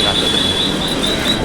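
A train pulls out of a station, a steady loud rumble of wagons with a thin high metallic squeal running along the whole brief stretch.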